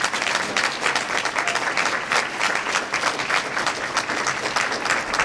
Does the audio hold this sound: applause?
yes